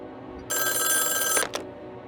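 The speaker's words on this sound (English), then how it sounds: "The thunderous ringing of the phone woke her up." An old telephone bell rings loudly in one sustained burst of about a second, then cuts off with a short final jangle.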